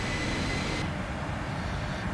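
The GE jet engines of a PMDG 747-400 in a flight simulator hum as a steady, moderately quiet drone of cockpit engine noise, with a higher whine that cuts out partway through.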